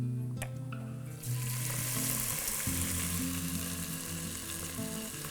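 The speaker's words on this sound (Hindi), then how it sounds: "अब लेके आते हैं यहाँ पर थोड़े खड़े मसाले, तेज पत्ता, काली मिर्च, बड़ी इलायची," Whole spices including bay leaf, black pepper, black cardamom and cumin hit hot oil in a handi pot, bursting into a loud, steady sizzle and crackle that continues without talk.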